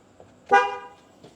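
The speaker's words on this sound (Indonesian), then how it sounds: "Kalau memang klaksonnya mau dipaksakan menggunakan relay supaya lebih kencang suaranya, pasti klakson Anda menyala." Horn on a restored Honda Civic Nouva wired through a relay, a single short blaring honk, close and loud, fading quickly with faint background noise.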